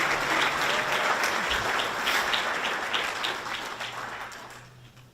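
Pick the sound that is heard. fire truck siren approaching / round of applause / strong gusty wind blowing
round of applause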